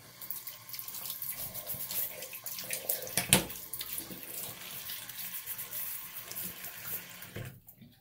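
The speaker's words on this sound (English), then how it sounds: "So let me wet my face, and then we'll get cracking. We'll go cold water." Cold water runs steadily from a bathroom tap while a face is wetted before shaving, a continuous close splashing hiss that stops abruptly near the end.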